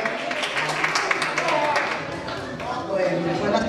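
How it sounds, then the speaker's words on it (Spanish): Audience clapping for Rosa Quispe at a San Martín de Porres celebration in Sanremo, Italy, a dense steady patter of many hands close by, mixed with crowd voices and a speaking voice. "Un aplauso para la señora Rosa Quispe, por favor."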